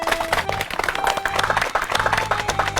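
A village audience gives loud, sustained applause at a farmers' organisation event, dense overlapping claps filling the whole stretch with a faint hum beneath.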